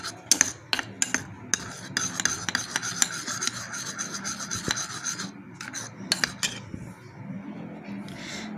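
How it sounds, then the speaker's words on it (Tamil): Tomato juice and aloe vera gel stirred together in a small bowl, a close, steady rasping scrape of a spoon with rapid repeated strokes and clinks, faint and continuous. "ஒரு 1/2 ஸ்பூன் அலோவேரா ஜெல் ஆட் பண்ணிக்கிறேன் ஆட் பண்ணி இது ரெண்டும் மிக்ஸ் ஆகுற மாதிரி நல்லா மிக்ஸ் பண்ணிக்கோங்க"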